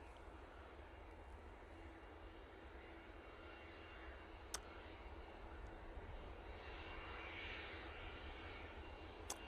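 A Singapore Airlines heavy jet arrives at Manchester Airport after a long-haul flight, its engines producing a faint, distant, steady roar that swells slightly toward the end.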